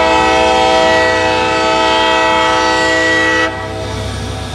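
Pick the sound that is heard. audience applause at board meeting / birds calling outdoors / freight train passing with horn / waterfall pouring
freight train passing with horn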